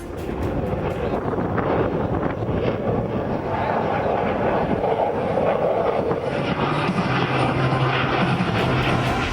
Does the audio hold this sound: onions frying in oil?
no